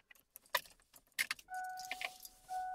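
Keys jangle and click as a car key slides into the ignition of a car that won't start, followed by a steady electronic chime tone from the dash, close and fairly quiet.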